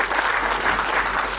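Sustained audience applause fills a school annual day function, a dense steady wash of many hands clapping at an even level with no break and no talk over it.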